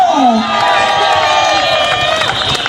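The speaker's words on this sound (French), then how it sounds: "Est-ce que nous pouvons applaudir" A crowd at the 2017 Mardi Gras parade in Basse-Terre cheers and shouts loudly and continuously, with high whoops and a sustained tone running beneath the noise.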